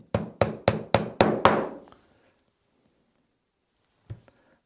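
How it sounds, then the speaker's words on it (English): Six sharp hammer blows drive the last nail into a leather trunk, hitting in a quick, evenly spaced series, each ringing briefly; silence follows, then one faint knock near the end. "The last nail going in."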